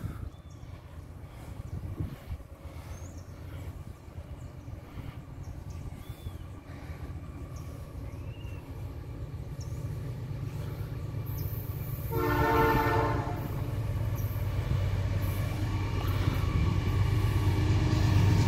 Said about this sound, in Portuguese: Lá vem o trem de novo.